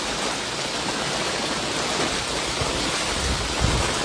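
Floodwater from a flooded market area runs like a river through low-lying streets during heavy rain, giving a steady, dense broadband rush with no voices.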